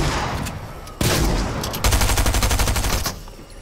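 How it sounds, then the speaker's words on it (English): Gunfire in Fortnite: a single sharp shot, then a rapid automatic burst of evenly spaced rounds lasting over a second, loud and close over a dense game soundscape. "You're shooting at me!"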